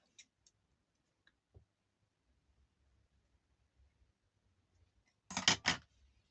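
Scissors snip a small bit off a tiny butterfly craft piece for a mini bag: a quick cluster of three or four crisp close cuts after a few faint isolated ticks in a quiet room.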